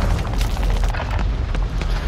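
A rocket launcher explosion in a Modern Warfare Resurgence match, a loud close boom followed by a churning, rumbling roar with a second blast partway through, no talk over it.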